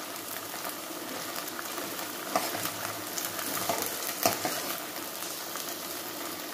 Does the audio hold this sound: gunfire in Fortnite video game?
no